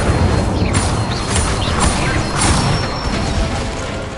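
Incendio fire spell cast in a Harry Potter video game, a loud crackling burst of flame with rumbling whooshes and scattered clanking impacts, sustained for a few seconds.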